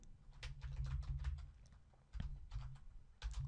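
Keys clatter on a computer keyboard while PHP code is entered, irregular bursts of close, soft clicks with brief pauses between runs.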